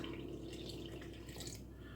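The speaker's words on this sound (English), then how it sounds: "Just pour a bit of cold water in there." Cold water is poured into a mixing bowl for pasty dough, a quiet, steady trickle with faint dripping and splashing that runs continuously and stays low in level.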